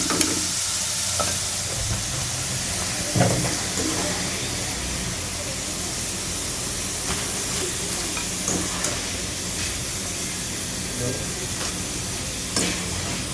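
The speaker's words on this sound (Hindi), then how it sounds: "तो ये अभी थोड़ी 1-2 मिनट और पकाएंगे, इसको फ्राई करेंगे" French fries deep-frying in hot oil for a pizza fries dish, a steady loud hiss and sizzle with light stirring clatter throughout, no talking over it.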